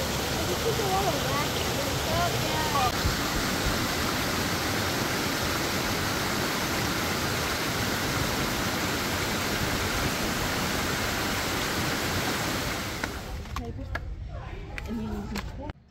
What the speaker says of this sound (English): There's water under it. I hear it.